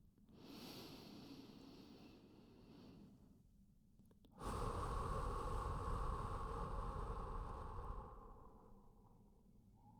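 Slow, calm breathing during a guided sleep meditation, a soft inhale followed by a longer, louder exhale, close and quiet with no other sounds.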